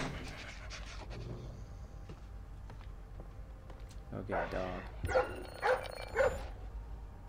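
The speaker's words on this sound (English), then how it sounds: "I hate fucking dogs in stealth games, man." A dog in the Splinter Cell Blacklist video game barks and pants in quick bursts near the end, over steady game ambience and someone talking throughout.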